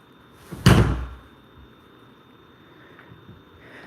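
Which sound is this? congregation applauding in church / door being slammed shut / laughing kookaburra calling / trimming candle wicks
door being slammed shut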